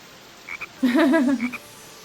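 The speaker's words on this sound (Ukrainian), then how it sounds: "Жаби, жабунькають і все тут." Frogs in the Sonic Heroes video game let out a loud, close, warbling croak, framed by a few short chirps before and after it.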